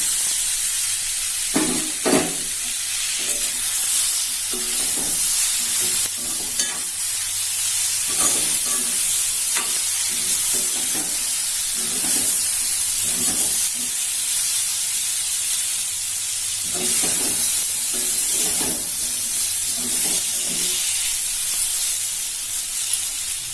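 Sliced onion and boiled raw plantain sizzle in a pan for puttu, with a constant frying hiss broken by repeated stirring strokes at an irregular pace.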